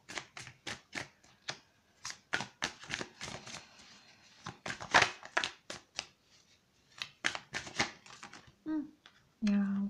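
Playing cards are shuffled and dealt for a tarot-style reading, a long run of quick, crisp riffling flicks up close, ending with a few soft thumps as cards land and a brief murmur of speech.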